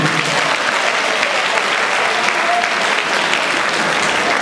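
A hall full of people claps steadily and loudly at a freshman ball, dense unbroken applause from start to finish with no voices standing out.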